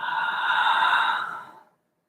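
A long steady exhale during a tai chi breathing exercise, a soft airy sigh held for about a second and a half before fading to silence, close and clear.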